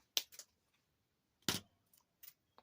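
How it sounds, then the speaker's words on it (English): Scissors snip through a piece of craft material in a few crisp, quiet cuts, grouped in pairs with short pauses between, with no voices. "All right, let me cut this because I have too much. Cut it right there."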